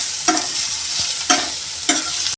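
Boiled potatoes and turmeric are stirred in a frying pan for batata poha, three scraping sweeps of a spoon over a steady sizzle, close and fairly loud with no voices.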